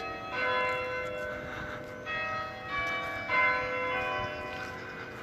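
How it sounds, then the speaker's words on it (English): Church bells of Nantwich church strike the quarter hour, several sustained metallic bongs ringing out clearly at moderate distance with long overlapping decays over faint outdoor ambience. "Oh, got the bells, good timing. I think like the on the hour bells."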